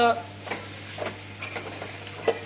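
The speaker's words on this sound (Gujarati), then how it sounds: "આ રીતે આપણે એને હળદર નાખી અને એને આ રીતે સરસ રીતે મિક્સ કરીશું." Potato poha with turmeric stirred in a sizzling pan, a steady frying hiss with a few soft spoon scrapes across the pan, close and alone without talk.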